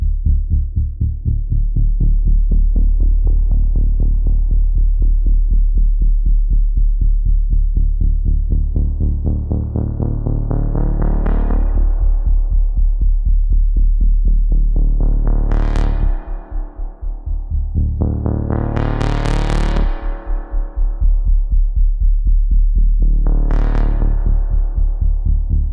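A Prophet 10 synthesizer bass patch fed into a spring reverb gives a loud, continuous throbbing low drone, swelling into several bright, splashy sweeps that ring out and fade.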